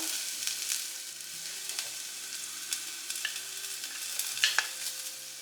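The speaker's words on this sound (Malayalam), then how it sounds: "ഇനി നമുക്കിതിലേക്ക് പച്ചമുളക് ഇട്ട് കൊടുക്കാം." Onion, ginger and green chilli sauté in a pan for a raw mango curry, giving a soft, steady sizzle with scattered stirring clinks and scrapes throughout.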